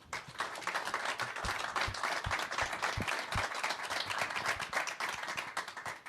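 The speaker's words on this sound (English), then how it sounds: "We love the cheers." A crowd applauds loudly and continuously at an NHL Draft announcement for Buffalo, with dense clapping close by and a few scattered shouts mixed in.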